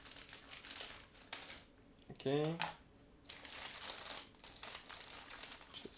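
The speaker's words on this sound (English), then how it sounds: "First, I would like to open this sealed plastic bag and take a look at all those parts" A sealed plastic bag holding model kit parts for a Miniart 1/35 KMT-5M is opened, giving close, crinkling plastic rustles throughout and a brief snip in the middle, with a single short spoken word.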